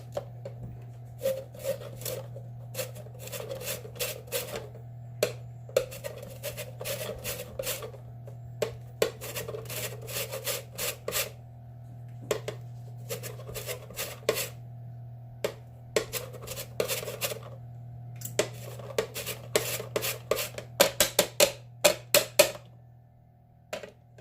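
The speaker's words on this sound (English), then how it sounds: "So I'm just gonna put some zest right in." Orange zest rasped off the peel by hand with a grater other than a microplane, heard as close, rhythmic scraping strokes that come in short bursts with brief pauses between them.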